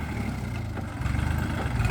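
A Kubota L4018 tractor's three-cylinder diesel engine runs on a farm job site, a close, steady low throbbing idle with a slight rise in pulse partway through.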